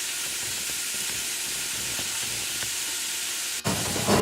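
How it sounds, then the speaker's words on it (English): Chicken sizzling in a pan over medium-high heat, a steady close hiss and crackle throughout with faint scattered pops, followed by a brief rustle near the end. "It's going to sizzle a little bit."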